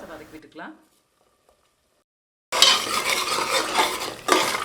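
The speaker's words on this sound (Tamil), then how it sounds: "இது கூட அரைச்ச மசாலா விழுத சேர்த்து ஒரு ரெண்டு நிமிஷம் வதக்கி விட்டுக்கிட்டா போதுங்க" Ground masala paste for a jackfruit seed kuzhambu sautés in a pan, heard after a quiet stretch as a loud close sizzle with stirring scrapes, following a brief bit of speech at the start.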